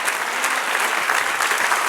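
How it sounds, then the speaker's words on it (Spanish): A church congregation applauds steadily during a sermon, a dense continuous wash of clapping with no break. "Dad un aplauso al Señor."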